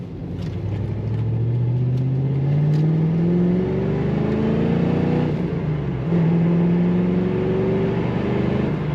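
A 1992 Ford Mustang LX convertible with its 5.0 V8 rumbles steadily while driving, the engine note climbing in pitch as it pulls through the gears and then dropping at each shift, loud and continuous with no talking.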